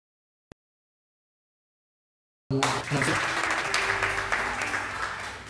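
A church congregation breaks into applause after a moment of near silence, the clapping rising suddenly into a sustained, dense, loud roar that carries on to the end.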